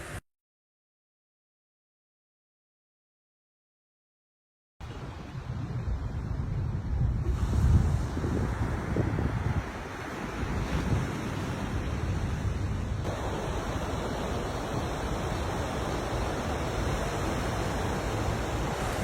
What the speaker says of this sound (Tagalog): Wave pa lang, nakaka-relax na.